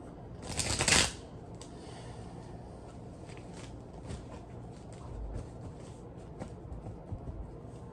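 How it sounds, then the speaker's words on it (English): Tarot cards shuffled by hand in a quiet room: one brief riffle burst near the start, then soft scattered card rustles and taps trailing off. "Now I'm going to pull some tarot to expand upon that."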